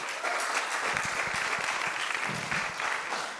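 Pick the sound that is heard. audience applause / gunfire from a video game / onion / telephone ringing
audience applause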